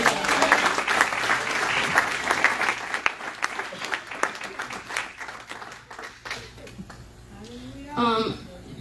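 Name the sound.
audience applause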